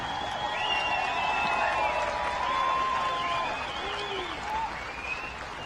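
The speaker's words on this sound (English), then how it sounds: "let's give everybody a round of applause" A large outdoor crowd applauds at a papal gathering in Canada, a diffuse, steady wash of clapping with whistles and scattered cheering, fairly distant and sustained throughout.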